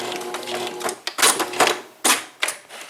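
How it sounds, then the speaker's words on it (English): A sewing machine stitches through paper journal pages, running back and forth in short bursts of rapid mechanical chatter with brief pauses between runs, close up. "Go back into that straight stitch, and then I'm going to do the back stitch"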